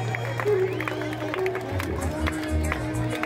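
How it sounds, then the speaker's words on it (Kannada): Crowd applause at a district-level road race in Mysore, a steady patter of clapping with a murmur of chatter throughout, fairly close and even in level. "ಎಲ್ಲರೂ ಚಪ್ಪಾಳೆ ಹೊಡೆಯುವುದರ ಮೂಲಕ"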